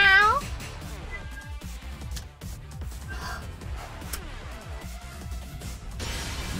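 A person voices a high, rising meow in imitation of a cat, followed by game sounds from Tekken 7 with impacts, music and clattering effects.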